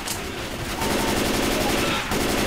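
Dense, rapid gunfire from Left 4 Dead 2 in the Mercy Hospital campaign. It sounds like a steady stream of overlapping shots that grows slightly louder partway through and carries on without a break.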